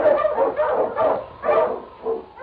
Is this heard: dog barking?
yes